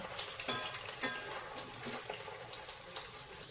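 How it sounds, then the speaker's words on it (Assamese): Chicken kofta balls frying gently over low heat in hot oil, a faint bubbling sizzle with small crackling pops scattered through it, no voices. "তেল গৰম কৰি মই কুপ্তাকেইটা লাহে লাহে এটা এটাকৈ দি আছোঁ"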